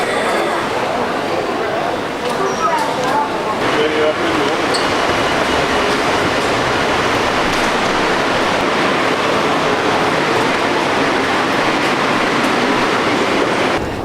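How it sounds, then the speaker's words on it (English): Shanghai Maglev high-speed train running at speed, a loud continuous roaring rush of air and rolling noise that fills the whole stretch without letting up, with a voice talking over it. "Now this is still the world's only high-speed maglev."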